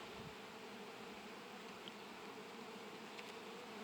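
Honeybees hum and buzz continuously around a hive frame held close by, a dense, steady drone with no talking.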